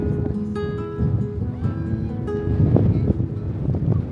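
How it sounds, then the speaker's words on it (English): Strong wind on a winter beach buffeting the microphone in gusty rumbling blasts, with tonal background sounds underneath. "It's so windy."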